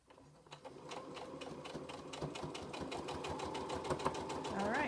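A sewing machine topstitches a flannel washcloth, its needle pounding in a rapid, even mechanical rhythm that builds slightly in speed and loudness over a few seconds, heard close up.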